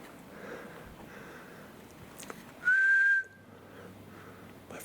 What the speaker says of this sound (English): My first whistle.